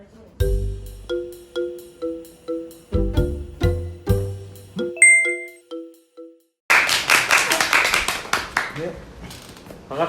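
A jingly chiming tune plays at the start, then a burst of hand clapping from a small group near the end, with talk faintly present.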